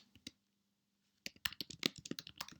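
A computer keyboard clicks as a git command is typed: a couple of isolated taps, a pause, then a quick, close burst of keystrokes, quiet and alone.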